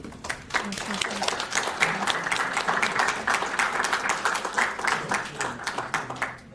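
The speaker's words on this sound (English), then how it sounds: "Let's give them a round of applause" Audience applause for the panelists at an elections forum in a hotel venue, steady dense clapping from a crowd throughout, with some voices murmuring underneath.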